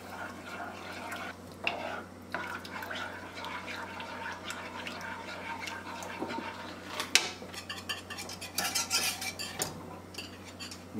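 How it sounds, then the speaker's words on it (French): A spoon or whisk scrapes and clinks against a pan as milk is stirred into a thickening sauce, producing irregular metallic taps and wet swirling over a low steady hum, with sharper clatters toward the end. "Je rajoute mon lait progressivement. Je mélange un peu."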